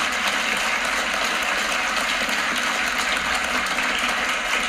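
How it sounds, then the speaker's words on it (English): Sustained audience applause in a BBC radio studio, dense steady clapping from many hands at even loudness throughout, with no voices over it. "A round of applause, ladies and gentlemen"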